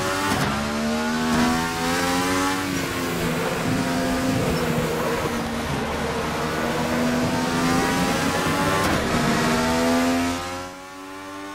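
A Mercedes W202 AMG DTM race car in the Raceroom sim racing game sets off on the Hungaroring circuit, its engine roaring loud and close as it revs up and pulls through rising and falling pitch, then fades briefly at the end.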